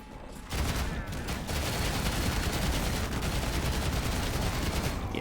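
Rapid, sustained gunfire in the retro shooter Ion Fury, fought through a hospital level, rattles loud and close almost without pause after a brief quiet start.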